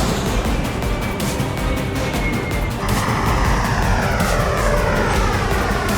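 Boeing 787 Dreamliner airliner taking off on a London-bound flight, a loud continuous engine roar that sweeps in pitch, heard close and alone with no voices.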